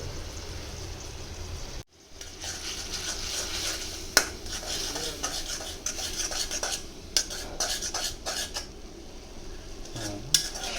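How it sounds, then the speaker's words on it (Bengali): A spoon stirs spice masala of turmeric, chili and garam masala with salt and a little water in a frying pan, with repeated metallic scrapes and clinks over a soft steady sizzle, close up with no talking. "মশলাটা একটু কষুক একটু কষার জন্য ছেড়ে দিচ্ছি"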